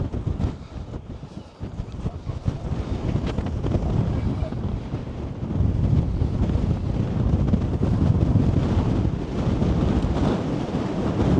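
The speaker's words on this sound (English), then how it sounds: "Really windy." Strong wind roars steadily across the microphone on exposed seaside cliffs at Filey, a loud continuous buffeting rush that builds slightly and stays dense throughout.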